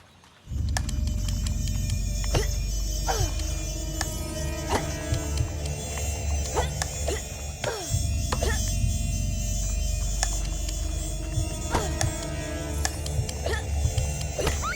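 Beetles buzzing in the video game Fable Anniversary: a steady, droning insect buzz with a low hum beneath it runs almost the whole time, alone and fairly loud, with faint brief clicks scattered through.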